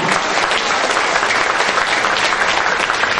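Audience applause for debate speakers at an Islam-Christian debate, dense steady clapping from a large crowd filling the whole stretch without talk.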